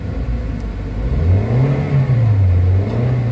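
A Toyota Avanza engine with low power and delayed throttle response revs up, a loud rising mechanical whir that climbs and holds at a steady high pitch, close by and alone without talk.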